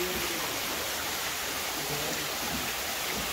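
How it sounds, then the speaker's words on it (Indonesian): Water in a pond or stream at Orchid Forest Cikole in Lembang, Bandung, gives a soft, continuous hiss of flowing water. It is faint and even throughout, with no voices. "Sepertinya ada bunyi-bunyi air kolam atau aliran sungai."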